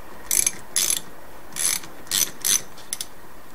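Screws being done up on a Ford Sierra Cosworth: a few short, bright ratcheting bursts, close and fairly quiet, spaced irregularly with pauses between and no talk.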